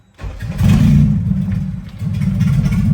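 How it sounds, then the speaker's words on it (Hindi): A Suzuki car fitted with a B18C Type R engine cranks and fires up for its first start, settling into a loud, steady, rough idle with slight rises in revs, close by and without talk. "अल्हम्दुलिल्लाह, गाड़ी हमारी फर्स्ट स्टार्ट है"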